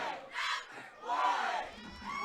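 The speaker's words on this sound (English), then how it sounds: "That's the Arkadelphia High School cheerleaders and the visiting crowd right in front of us that you're hearing" High school cheerleaders and the visiting football crowd cheer and shout at an Arkadelphia playoff game, a loud, nearby roar that rises and falls in waves.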